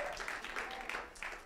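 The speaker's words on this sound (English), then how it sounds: "Let's clap your hands for the Lord Jesus Christ." A church congregation claps hands during worship, a scattered ripple of applause at moderate distance with a few louder bursts, brief and somewhat faint.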